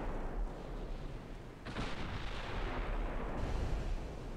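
Heavy 14-inch naval guns boom in the warship game Ultimate Admiral: Dreadnoughts, a deep rumbling blast with a sharp onset midway, rolling on over continuous low battle noise with no talking.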